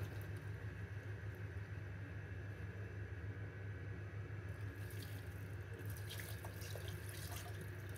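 Water pours steadily into a pot of masoor lentils cooked with jute leaves and chilli, a soft, continuous running-water wash with slight splashy variation toward the end, fairly faint and without voices.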